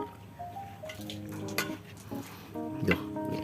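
Snakehead fish curry paste being stirred and tossed with chopped noni leaves for Thai steamed curry, a steady wet mixing and scraping with light clinks of a utensil against the bowl, close and fairly quiet, no talk.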